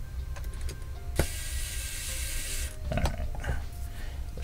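Small screws being driven into the aluminium case of a Monsgeek M7W keyboard, giving soft ratcheting, rubbing clicks from a screwdriver bit, with a brief sharp tap and a longer hissy scrape, close up with no talk.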